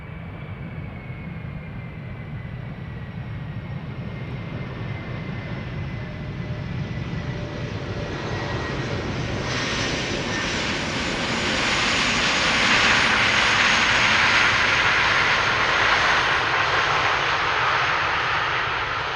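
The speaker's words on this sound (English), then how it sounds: "Now, Turkish Airlines arriving from Istanbul" Turkish Airlines airliner arriving from Istanbul at Amsterdam Schiphol Airport, a steady loud roar of jet engines that swells and brightens toward the middle as the plane draws nearer, with no voices.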